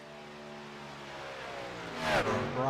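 Number 54 race car in iRacing superspeedway racing, engine note rising as it gathers speed, with a quick whooshing pass near the end, heard faintly under a distant background.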